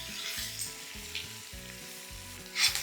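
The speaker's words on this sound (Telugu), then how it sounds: "నూనెలో క్యాప్సికమ్ మంచిగా వేగాలి" Capsicum pieces frying in hot oil in a pan give a steady close sizzle, with soft scraping and stirring touches and a brief louder burst near the end; no one speaks.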